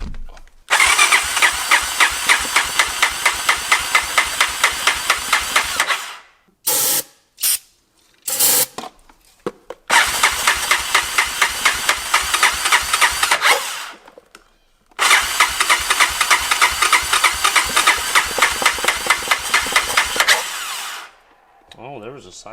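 An old, long-abandoned Honda engine with a freshly freed carburetor cranks hard in three long bursts of several seconds each, loud and close, with brief clanks and pauses between attempts but no firing.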